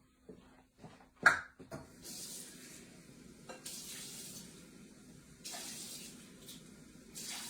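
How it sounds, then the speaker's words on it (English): Water runs from a kitchen tap while Betty Crocker Yukon Gold Russet potato mix is being prepared, coming in several rushing bursts between soft clinks and handling noises, with no talking. "Let me get the water."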